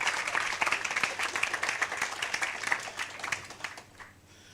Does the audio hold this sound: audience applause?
yes